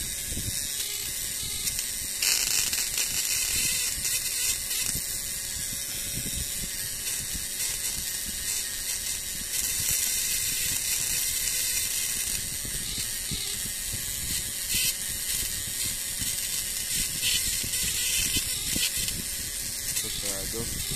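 Homemade old-school contact-point fish stunner with eight condensers and two capacitors running, giving a continuous harsh mechanical chattering and buzzing with some hiss, loud and close throughout.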